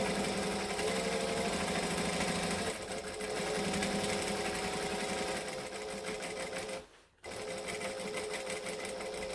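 A sewing machine stitches an airliner cabin bag in steady rapid bursts, pausing briefly twice, the second time falling fully silent before the motor starts again.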